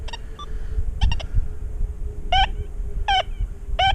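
A metal detector held over a nail gives short warbling electronic tones: a few quick chirps early, then three separate rising, wavering beeps at regular intervals over a low background rumble, with no voices.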